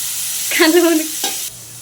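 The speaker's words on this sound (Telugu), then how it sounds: "ఇలా చికెన్ కొంచెం ఫ్రై చేసుకున్న తర్వాత ఇందులో సన్నగా కట్ చేసుకున్న క్యాబేజీని కూడా వేసేద్దాము" Chicken and finely shredded cabbage hit hot oil in a pan, giving a short burst of loud sizzling with stirring before it settles to a quieter hiss.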